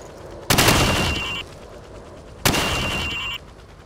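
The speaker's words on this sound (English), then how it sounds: "Now, shoot each time while aiming down the sights." Rifle gunfire at a shooting range in the Call of Duty 4 video game: two loud, close bursts about two seconds apart, each lasting roughly a second, with no talk.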